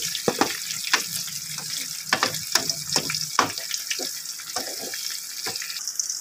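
Leaves sizzle and fry in boiling oil for homemade herbal hair oil, a steady crackling hiss with scattered sharp pops and a few stirring clinks, close and alone without talk.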